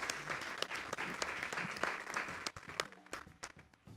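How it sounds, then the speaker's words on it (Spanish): A festival audience at a journalism event gives quiet, somewhat distant applause, with a few sharp individual claps standing out before the clapping thins near the end. "Por favor, un aplauso."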